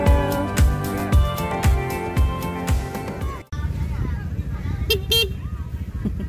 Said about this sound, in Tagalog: Yabang, mga busina.